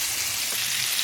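Hamburger steaks frying in a pan on medium-low heat, a steady dense hiss and crackle of sizzling, close and continuous with no voices.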